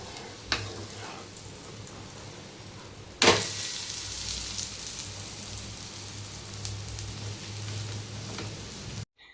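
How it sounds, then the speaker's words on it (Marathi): A besan pola, a gram flour pancake, sizzles steadily on a hot griddle, a continuous close crackle with a sharper spatter burst near the start and light clinks. "इथे दुसरा पोळा पण मी भाजायला ठेवला आहे"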